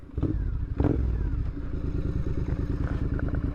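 A Triumph Hinckley Bonneville motorcycle pulls away on a test ride, its engine chugging in a steady low pulsing rhythm as it accelerates, close and fairly loud with a few clunks near the start.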